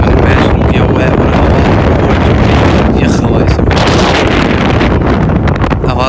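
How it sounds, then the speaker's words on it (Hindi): Cold wind blows steadily across an open cricket ground, buffeting the microphone in a loud, continuous roar that rustles and gusts throughout. "आवाज़ भी आ रही होगी, हवा आ रही होगी"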